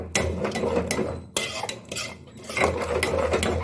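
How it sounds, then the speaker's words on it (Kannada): A spoon scrapes and clinks against a pan while kara pongal with coconut and coriander is stirred, making close, irregular bursts of metallic scraping separated by short pauses, with no talking. "ಇವಾಗ ಲಾಸ್ಟಲ್ಲಿ ನಾನು ಕೊಬ್ಬರಿ ಮತ್ತು ಕೊತ್ತಂಬರಿ ಸೊಪ್ಪು ಹಾಕಿ ಕೈ ಆಡ್ತಾಯಿದ್ದೀನಿ"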